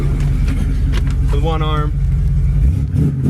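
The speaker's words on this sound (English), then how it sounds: "listen to this thing. It's not your sound of your typical Mustang." A 1968 Ford Mustang engine runs with a loud, steady low rumble and a brief rising rev, heard from close by while someone talks over it.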